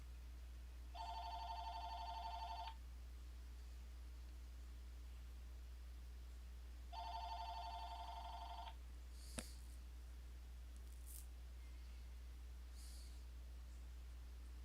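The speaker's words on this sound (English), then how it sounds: "sorry, the phone's ringing." A telephone rings twice, each a long electronic trill separated by a pause, over a steady low hum with a faint click and rustle afterward.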